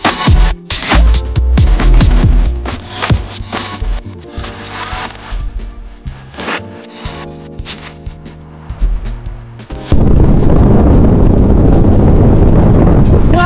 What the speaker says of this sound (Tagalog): Grabe, tinutulak tayo ng hangin.